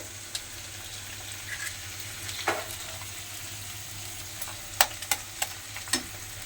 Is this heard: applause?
no